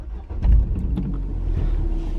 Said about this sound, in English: So if I was to start the car up now,